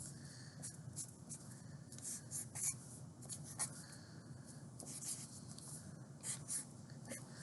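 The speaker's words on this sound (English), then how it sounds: "I'm going to draw little boxes for you to kind of indicate how this was set up." Pen scratching across paper while small boxes are drawn for a bedroom layout, a faint, continuous close-up scribbling with short strokes and a few slightly louder taps.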